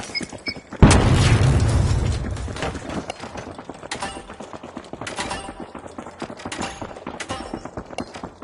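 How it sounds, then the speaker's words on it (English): A frag grenade going off in a video game: one sudden heavy boom with a long rumbling tail, followed by scattered clicks and rattling mechanical game sounds. "Sending a frag!"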